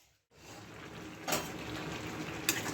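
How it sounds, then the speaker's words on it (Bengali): Half a cup of water poured onto raw mango pieces in a pot for Bengali mango jam, a steady liquid splash and hiss with two brief clinks of utensil against the pan. "কাঁচা আমগুলো দিয়ে দিচ্ছি করাতে আমি হাফ কাপ জল দিয়ে দিচ্ছি"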